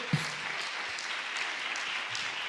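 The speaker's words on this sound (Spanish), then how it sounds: "Fuerte el aplauso a Jesús." Church congregation applauding during a Spanish-language sermon, sustained dense clapping from many hands filling the room, with a brief low thump near the start.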